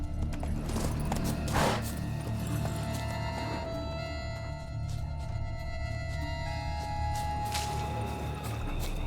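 Horse hooves clip-clop in The Witcher 3, a moderate rhythmic trot under game music and effects, with a few sharper knocks and no talking.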